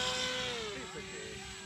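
A small H-King paramotor engine drones steadily with a slight pitch sag as the throttle shifts, heard at moderate distance for under two seconds.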